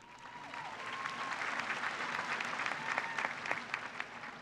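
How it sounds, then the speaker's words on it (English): An audience at a high school graduation ceremony claps in a moderately distant, steady round of applause that swells slightly and carries on throughout. "Let's give a big round of applause to their parents on a job well done."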